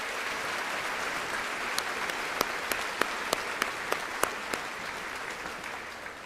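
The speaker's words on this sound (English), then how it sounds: "Let's give this group a round of applause." A high school graduation audience claps steadily at moderate volume, with a run of sharper, louder individual claps standing out near the middle of the ovation.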